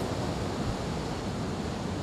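Ocean waves break on the shore where a young pro surfer trains, making a steady, close roar of surf with no pauses or voices over it.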